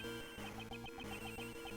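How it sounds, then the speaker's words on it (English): A cell phone rings in the Ace Attorney Investigations 2 video game, a steady repeating electronic ringtone pattern over the game's background music, with no voices. "That sound is her cell phone."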